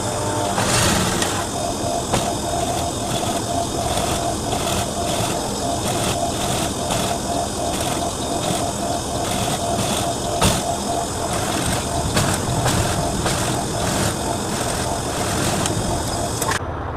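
Sewing machine stitching a very thin fabric for a flared top, a steady mechanical whirr with rapid rhythmic ticking that runs nearly continuously, with occasional clicks and brief pauses.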